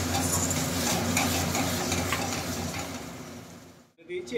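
Spice paste is stirred and fried in oil in a pan for chicken kosha, a continuous close sizzle with scraping stirs and light utensil clicks that briefly drops out near the end.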